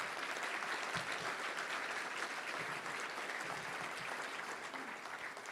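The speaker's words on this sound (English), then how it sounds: "let's give a big round of applause to all of them" A luncheon crowd at the Little Rock Touchdown Club breaks into sustained, dense applause that stays loud and even throughout, with no voices over it.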